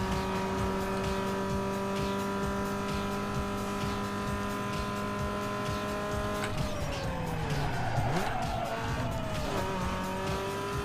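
Hard braking and tire skid in the racing game NFS Underground 2: a steady engine drone drops away as a loud screeching slide with descending pitch takes over, then the engine picks back up.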